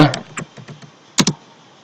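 Close typing on an English-layout computer keyboard: a handful of sharp key clicks, scattered at first, then a quick double tap near the end.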